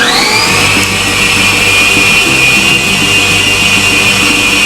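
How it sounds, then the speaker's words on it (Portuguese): Electric mixer whipping egg whites, a loud steady motorised whir with a rising pitch at the start and then a constant drone, close up with no talk. "aqui você bota na batedeira"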